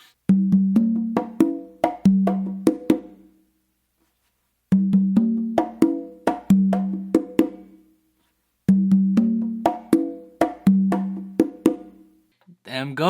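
Guaguanco from Matanzas played on three congas, including the tumba, with ghost notes: phrases of rapid hand strokes and ringing open tones repeated three times with brief pauses, close and dry, no talking.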